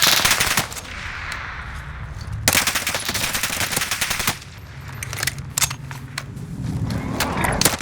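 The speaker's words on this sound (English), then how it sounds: "I'm taking fire!" Rapid automatic gunfire in the Call of Duty Warzone video game, dense bursts of rattling shots in close succession across the whole stretch, loud and near, with brief lulls between volleys.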